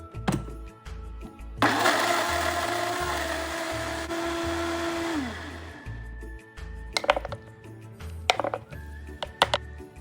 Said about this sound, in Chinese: 将切细后的木薯块倒入搅拌器内，加一点清水，比较好搅拌。